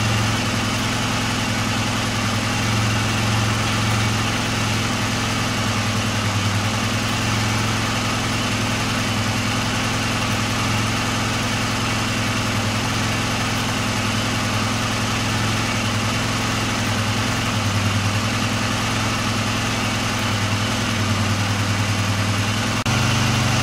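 A Honda CBR250R MC19 motorcycle engine idles steadily and loud, a continuous low throbbing rumble with no break across the whole stretch.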